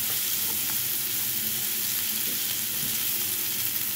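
Onions sizzle steadily in a hot frying pan, a dense even crackle that stays close and constant throughout with no talking.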